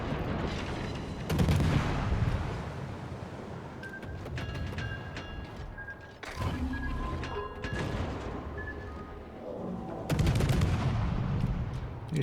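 Naval gunfire in World of Warships, loud booming salvos and bursts of shellfire in irregular clusters, rumbling and close, with sharp impacts scattered between heavier volleys.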